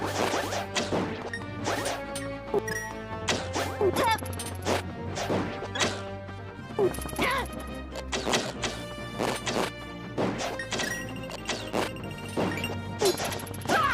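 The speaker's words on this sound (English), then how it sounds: "When you hit an enemy, it sounds like a little toot." Punches landing on enemies in Zelda: A Link Between Worlds make a rapid series of sharp game hit sounds, dozens of close, punchy thwacks and crunches in an uneven rhythm with brief tonal blips between.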